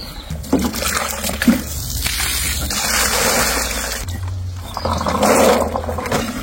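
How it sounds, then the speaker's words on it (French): Water pours from a hose into a container being filled for home-cured olives, a steady broadband rushing and trickling stream that swells and fades slightly over several seconds, close and fairly loud, with no talk. "ça je vais le remplir d'eau"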